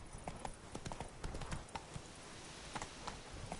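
In The Witcher 3, Roach the horse gallops with quick, fairly faint hoofbeats in an uneven rhythm that carries on throughout.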